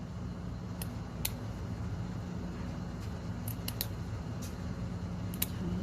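Sharp scissors snip repeatedly through fabric, crisp short cuts at an irregular pace over a low steady hum, close and fairly quiet.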